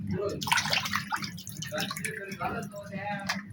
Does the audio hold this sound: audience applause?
no